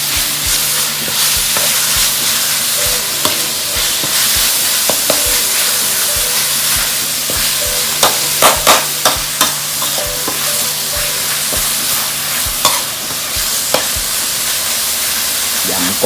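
Frog meat frying in a hot pan, a continuous loud sizzle and hiss with a spatula scraping and tapping irregularly as the pieces are stirred, close up and without talk.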